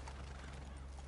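Horses in the video game Red Dead Redemption 2 make a brief clip-clop of hooves and a faint whinny, soft and close, with no talking.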